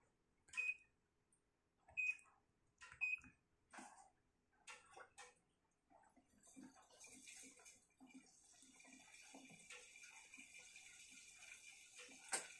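Water drains out of a Sharp ES-U756E washing machine after a fault with its drainer: a few sharp beeps and knocks first, then a steady, faint hissing rush of outflowing water that builds and continues to the end.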